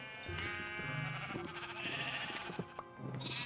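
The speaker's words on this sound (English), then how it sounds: "There's a lot of sheep here." Several sheep in a Minecraft-style video game bleat in quick succession, the calls overlapping and fairly close, with no talking.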